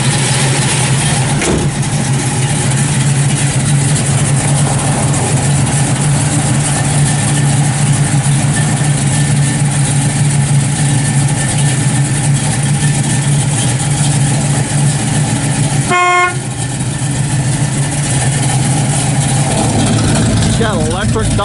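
A 1971 Chevrolet Nova SS with a 454 big-block V8 and electric exhaust dumps idles close by with a loud, steady, deep rumble that holds for the whole stretch, broken by one brief clunk near the end.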